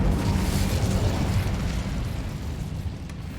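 A fiery, whooshing roar from the Incendio fire spell in Hogwarts Legacy, loud and close, bursting at once and then slowly fading, with no talk over it.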